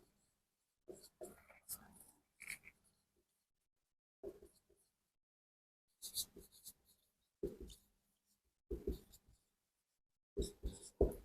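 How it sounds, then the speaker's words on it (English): Handwriting during a database lecture on conflict-serializable schedules: short scratchy strokes of pen or marker come in several quick bursts with pauses between them, close by and fairly quiet, with no talking. "I can write it here."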